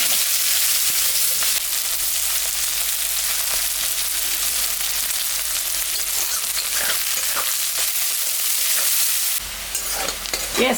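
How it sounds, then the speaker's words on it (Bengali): Chopped onions fry in oil left from frying fish, tempered with cumin and nigella seeds. A loud, steady sizzle runs throughout with stirring scrapes, then briefly drops near the end. "পেঁয়াজটা ভাজা ভাজা হয়ে গেছে।"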